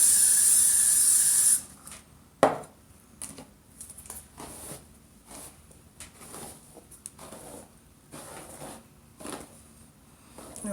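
Hair spray hisses from an aerosol can onto a wig in one loud, steady burst of about a second and a half at the start, followed by quieter handling and faint rustling.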